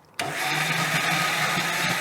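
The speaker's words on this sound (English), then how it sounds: "now it's time to get them into our blender. And we will blend them till we have a smooth paste" A kitchen blender whirs loudly and steadily, blending soaked, softened dried chilies into a smooth paste for smoked chili; the motor starts abruptly and holds a constant drone throughout with no talking.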